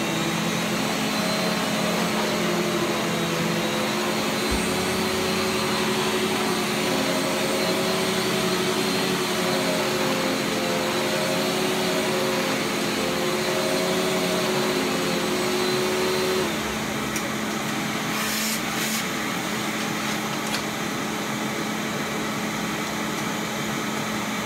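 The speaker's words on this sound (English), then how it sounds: "Let's switch it on at the vacuum. And let's get vacuuming." A Rainbow SE vacuum cleaner, UK version, runs steadily at a loud, constant whine with a low droning hum, briefly shifting pitch near the end as it works through a house.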